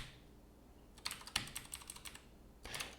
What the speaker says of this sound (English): That's what happens when I keep typing code